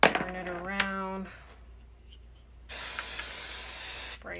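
Apple Brand Gardé Rain protector is sprayed onto a Vachetta leather bag in a steady, close aerosol hiss lasting about a second and a half, following a few spoken words and quiet handling sounds.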